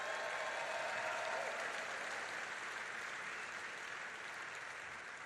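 Steady applause from a large crowd at the Detroit auto show, a dense even clatter of clapping that fades slightly toward the end, no voices over it.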